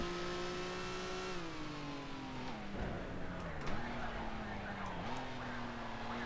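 A 1955 Formula 1 race car engine in the Grand Prix Legends racing game revs high and steady, dropping in pitch through downshifts and climbing again, a thin buzzing tone alone with faint tyre noise.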